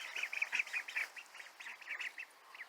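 Indian runner ducks at a small hillside pond give a steady run of soft, quick quacks and chatter, close but quiet, with no one speaking.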